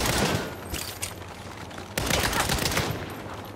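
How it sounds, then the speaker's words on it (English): Heavy cannon fire in the Saints Row (2022) video game on PS5, two loud sustained bursts of rapid booming blasts, the second starting about halfway through. "This is the cannon of truth!"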